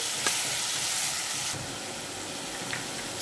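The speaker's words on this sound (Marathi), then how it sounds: "वाटून घेतलेला मसाला, आपल्याला छान थोडा भाजून घ्यायचा आहे हलकासा।" Ground spice masala roasts in a hot pan for an ivy gourd (tondli) bhaji, giving a steady, close, broadband sizzle and hiss with a few faint stirring scrapes and no talking.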